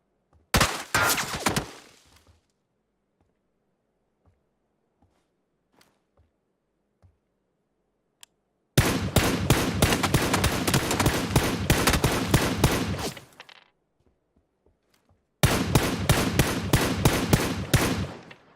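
Rapid automatic gunfire in a video game, a short burst at the start followed after a long quiet gap by two sustained loud bursts of fast repeated shots with no talking.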